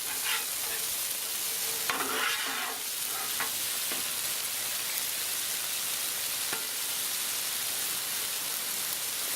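Chicken sausage and peppers sizzle loudly and steadily on a Blackstone griddle. A few scraping spatula stirs cut through near the start, and the hiss carries on alone to the end.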